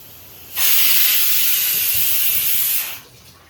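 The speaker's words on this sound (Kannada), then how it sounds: "ಇದನ್ನ ಎಣ್ಣೆಯಲ್ಲಿ ಹಾಕ್ಕೊಂಡು ಒಳ್ಳೆ ಸ್ವಲ್ಪ ಚೆನ್ನಾಗಿ ಕಬಾಬ್ ಮಾಡ್ಕೊಂಡು ಸ್ವಲ್ಪ ಬೇಯಿಸ್ಬೇಕು, ಫ್ರೈ ಆಗ್ಬೇಕು." Chicken kebabs hit hot oil for deep frying, setting off a sudden loud, close hiss that holds steady for about two seconds before fading away.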